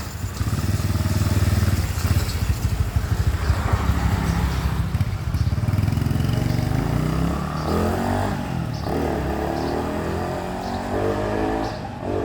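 Motorcycle engine revving as the throttle is twisted in a repair shop, loud and close, with sustained throttle bursts that rise and fall in pitch over a rough idle.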